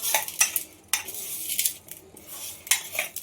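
A spoon scrapes and clinks against a metal bowl as dough is mixed with salt and asafoetida, uneven bright clattering strokes that come in bursts, close up, with no talking.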